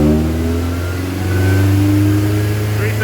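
Steady mid-pitched hum of a 1991 Honda CRX HF four-cylinder engine cruising in fifth gear, a continuous drone with a slight rise in pitch, heard from inside the car.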